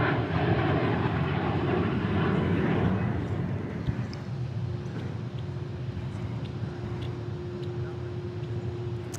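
Boeing 737 MAX 8 jet at Dallas/Fort Worth airport, a loud engine rumble that fades after a few seconds into a softer distant drone with a steady whining tone lingering beneath.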